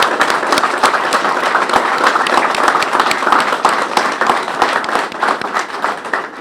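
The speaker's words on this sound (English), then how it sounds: "Can we please give Coach Mays a round of applause here?" A press-conference crowd claps for a baseball coach, with individual hand claps standing out close by and a ragged, loud rhythm that thins toward the end.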